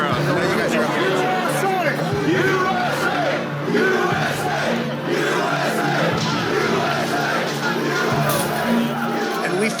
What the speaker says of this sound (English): Look behind you. Look at that